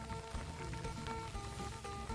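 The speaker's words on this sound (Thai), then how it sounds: "ฝนลงเม็ดแล้วจ้ะปอกแป๊กปอกแป๊กแล้ว" Rain falls on open green rice fields during a tropical storm, a steady soft patter of drops spread evenly across the scene without a break.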